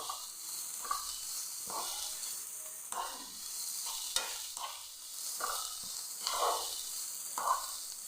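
Onions frying in a pan and stirred at intervals, with steady sizzling broken by repeated scraping strokes of a spoon, close and fairly quiet, no talking.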